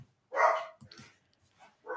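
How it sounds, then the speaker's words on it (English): A dog gives one loud close bark followed by a few softer short barks or yips in a quiet room, with no talking over them. "It's Eric barking."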